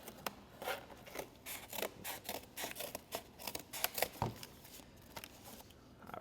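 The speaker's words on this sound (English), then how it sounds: "My box is a little bit bendy, so sometimes the scissors get caught on it" Scissors snip and crunch through a bendy cardboard box, a close, quiet run of irregular cuts and rasping scrapes with brief pauses, the blades now and then catching on the board.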